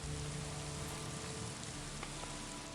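Steady rain effect from the video game Gothic 2 L'Hiver, a dense, even hiss of falling rain on surfaces, moderately loud and unbroken throughout, with no voices over it.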